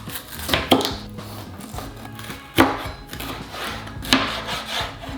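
A kitchen knife slices bell peppers on a wooden cutting board, with a few sharp, widely spaced chops over soft scraping and rubbing, close by and without talk.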